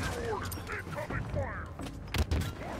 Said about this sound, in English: These guys are shooting me from everywhere.